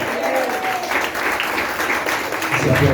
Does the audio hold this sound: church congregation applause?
yes